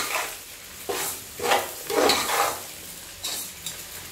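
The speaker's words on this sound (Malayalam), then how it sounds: "ഇനി നമുക്കിതിൽ നമ്മളെ മുളകൊന്ന് നമുക്ക് വാട്ടിയെടുക്കാം." Chilies are sautéed in a pan for a seer fish pickle. A light sizzle runs under several distinct scraping stirs and spoon knocks against the metal, at close range.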